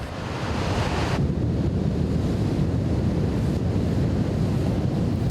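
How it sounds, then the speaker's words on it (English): Heavy surf from a big ocean swell roars steadily at sea, a dense continuous wash of breaking waves mixed with strong wind buffeting the microphone, with no voices. "We could spot that the swell was really, really big."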